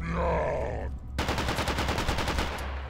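An AK rifle fires in a first-person shooter game, a rapid automatic burst of evenly spaced shots following a brief distorted sound, loud and continuous to the end.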